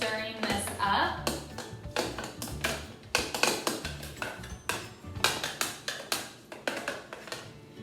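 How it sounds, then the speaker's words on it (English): A utensil stirs strawberries and frozen yogurt inside a blender jar, producing a quick series of sharp taps and knocks against the container in an uneven rhythm, fairly close. "I'm just gonna help it along here by just kind of stirring this up"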